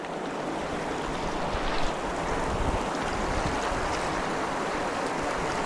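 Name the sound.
water lapping at riverside or lakeside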